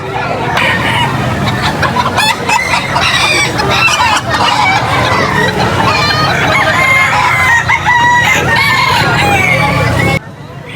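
Several roosters crow repeatedly over a dense, noisy crowd of clucking chickens at a pet market in Angeles, loud and continuous throughout.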